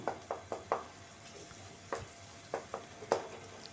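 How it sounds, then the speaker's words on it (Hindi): Tomatoes with masala roasting over a high flame, a quiet background sizzle punctuated by a series of light, sharp stirring taps and scrapes against the pan. "अब मैं टमाटर को भूनूंगी।"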